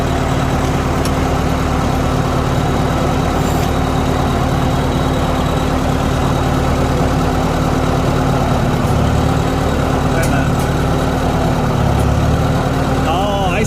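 Tractor engine running steadily at idle on a farm during soybean planting, a continuous low rumble throughout with faint talk over it.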